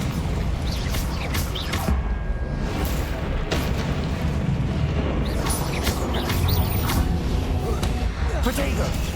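Confringo fire spells blast repeatedly during combat in Hogwarts Legacy, with booming explosive bursts and creaking mechanical effects over a dense, continuous battle din.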